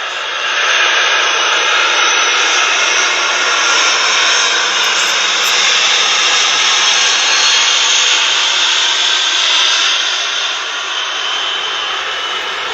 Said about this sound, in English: Oh, it's a plane passing